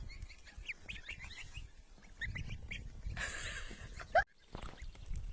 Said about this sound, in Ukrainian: Гусятка пасуться.